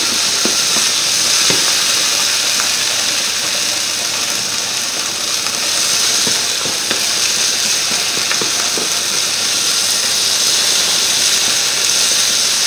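Apple black pudding frying in oil in a pan, a loud continuous hiss and sizzle with occasional soft stirring knocks, close and unbroken throughout.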